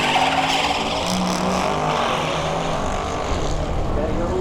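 A 1998 Mustang GT with a 4.6 overhead cam V8 races down a straightline drag strip, its engine note and tire noise sustained and fairly loud, with a voice commenting over the top.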